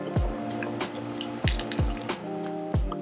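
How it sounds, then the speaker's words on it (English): A cocktail with egg white poured over fresh ice into a rocks glass, close and quiet, with a few distinct splashy drips and clinks against the ice rather than a steady stream. "now I'm just gonna pour my Fool's Gold over the top."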